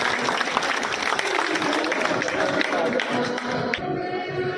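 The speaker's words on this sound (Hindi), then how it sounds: "उनकी आमद से पहले जबरदस्त तालियों में उनका इस्तकबाल कीजिएगा।" Rally crowd at a government employees' budget strike in Punjab, Pakistan, gives a speaker a sustained burst of applause, dense and steady throughout before cutting off near the end, with a voice briefly audible over it.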